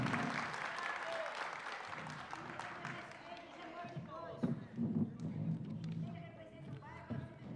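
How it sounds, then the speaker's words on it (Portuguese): Audience applause at a public hearing of the São Paulo city council in the Ipiranga southeast region, a broad patter of clapping filling the room with murmuring voices and a few thumps mixed in. "uma salva de palmas para nosso subprefeito"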